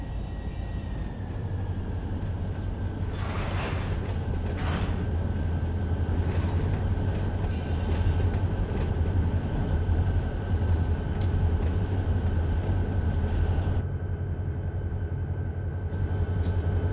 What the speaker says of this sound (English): See that Union Pacific yellow locomotive